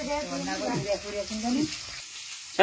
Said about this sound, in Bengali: ডিম আমি প্রথমে ভেজে নিই